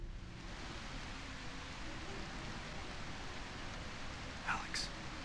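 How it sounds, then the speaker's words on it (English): Rain in A Quiet Place video game, a steady wash of falling rain and dripping, even and fairly soft, with a brief brighter sound near the end. "Thank Christ for the rain."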